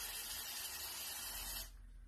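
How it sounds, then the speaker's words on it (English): Black spray paint sprayed from 18 inches at a face covered by a homemade cloth mask, a short continuous hiss lasting under two seconds that then cuts off, fairly faint. "our spray paint from 18 inches"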